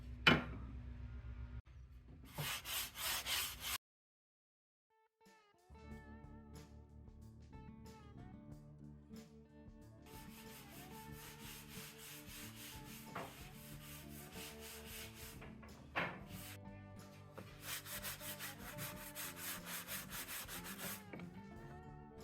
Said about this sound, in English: I just used my sander here, and on this first one I decided to sand down the corners a little bit